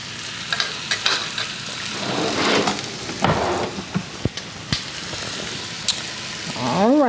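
A steak sears in a very hot skillet with a steady, close crackling sizzle, broken by a few clanks and scrapes of utensils against the pan.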